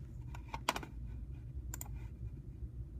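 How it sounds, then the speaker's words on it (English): Light typing on a computer keyboard, a few quick clustered key clicks over a steady low hum, with pauses between bursts. "So I have to type in ATGT."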